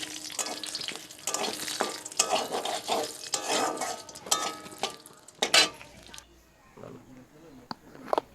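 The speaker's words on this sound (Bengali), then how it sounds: "দুটো শুকনো লঙ্কা দিয়ে দেব, দুটো তেজপাতা দিয়ে দেব," Dried red chillies and bay leaves sizzle in a little hot oil as a tempering for chicken curry, a busy crackling fry with utensil stirring, then quieter spitting toward the end; a voice talks over much of it.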